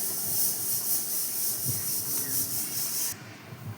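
Dal and rice cooking on the stove, with a steady bright hiss of steam that runs continuously and then drops off abruptly near the end, with faint low clatter beneath.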